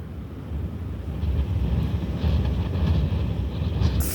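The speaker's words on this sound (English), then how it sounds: "There's a massive wind right now outside." Low, rumbling gusts of strong wind batter a parked car, a dense steady roar with pulsing surges and no voices.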